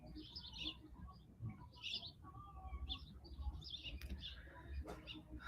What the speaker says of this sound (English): I know there's doves, there's lots of things that look like a little finches